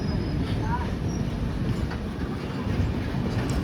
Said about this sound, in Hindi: फाइनली ये गूड्स ट्रेन तो क्रॉस होने वाली है, बहुत लंबा था